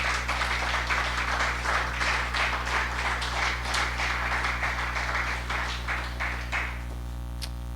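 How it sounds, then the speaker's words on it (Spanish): A church congregation applauding Jesus, a dense, steady wash of many hands clapping that carries on for several seconds and then stops abruptly, with a low hum beneath it. "Una vez más, dale un fuerte aplauso a Jesús."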